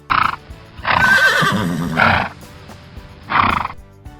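A horse gives several loud, close neighs and whinnies in short bursts separated by brief pauses, with faint hoof clops between them.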